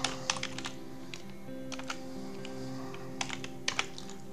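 Typing on a computer keyboard while entering data in an Excel spreadsheet: a run of light, close key taps in uneven bursts with short pauses, heard alone over a quiet room hum.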